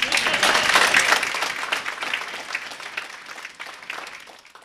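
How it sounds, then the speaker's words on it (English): Applause from the assembly at a synod meeting, a dense crowd of clapping hands that rings out loudly at first and then gradually thins and fades over several seconds. "we are not to applaud, cheer, or anything else, no matter how funny it is sometimes"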